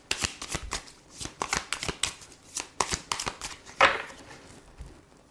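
Tarot cards are shuffled in quick, crisp riffling bursts, close and fairly quiet, with a sharper flurry near the end.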